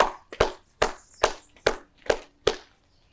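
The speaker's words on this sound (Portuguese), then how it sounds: "Palmas pro Lucas." Sparse hand claps welcome a chef onto the stage: about seven crisp, evenly spaced claps ring out close and clear against an otherwise quiet room.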